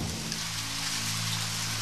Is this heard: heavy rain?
yes